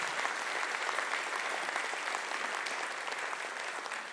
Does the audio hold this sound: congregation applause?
yes